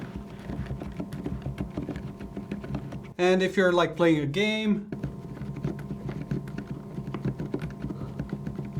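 Soft, muted clatter of typing on a be quiet! Light Mount mechanical keyboard with silent linear switches, rapid and continuous, briefly interrupted by a person speaking.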